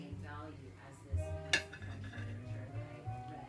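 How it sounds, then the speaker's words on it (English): Utensils scrape and clink against plates while couscous is mixed, with one sharp clink in the middle, faint and close, with a low voice murmuring in the background. "now we're going to mix the couscous on the plates"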